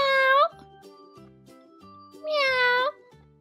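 A person voices a cat's meow for a Little People farm toy kitten during play, two drawn-out high mewing calls with a short gap of quiet and faint handling noises between them.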